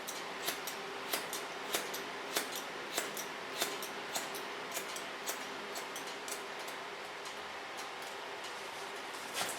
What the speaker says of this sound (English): Take a nice sharp scissor, and you can hear she has strong hair.